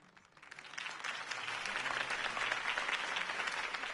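A crowd applauds after Harvey Dent's campaign speech in the Batman Telltale video game, the clapping swelling from soft to a full, steady ovation that sounds moderately distant.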